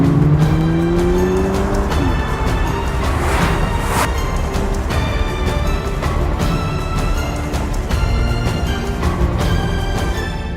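Sports car engines rev hard on a twisty road during an Audi S3 versus Subaru WRX comparison, with sharp throttle blips, gear changes and loud tire squeal, captured close and continuous.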